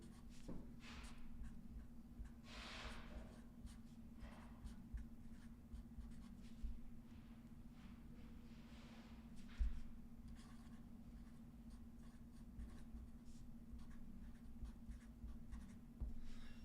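Pen writing by hand on paper, a steady scratchy stroking that runs the whole stretch, close and fairly quiet, with short pauses between bursts of strokes and a soft low hum underneath.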